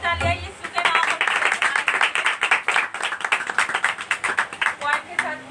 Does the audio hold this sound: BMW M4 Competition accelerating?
no